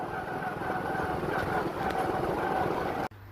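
Motorbike riding along a canal in a quiet, remote area, with a steady, continuous engine drone and wind rush close by, holding constant before cutting off abruptly near the end.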